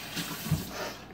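Water runs from a tap into a kitchen sink, a short steady rush and splash at moderate level.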